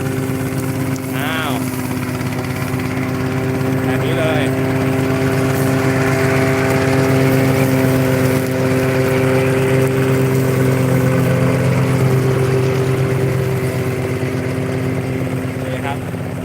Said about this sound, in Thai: ติดเครื่องตัดหญ้า ตัดวัชพืชด้านหน้าครับ